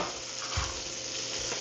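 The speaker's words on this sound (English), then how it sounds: "the goal here is to get a really nice sear on it" Pork sears in a hot pan, giving a steady, soft sizzle with a faint crackle throughout, fairly quiet and heard alone without talking.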